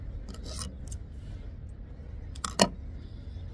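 Fishing line for a seaside Mediterranean rig with two tridents snipped with scissors, a few faint snips early and then one sharp, close cut, over a steady low background hiss with no talking.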